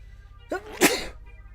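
A single sharp sneeze with a short breathy intake before it, close and loud against a quiet background.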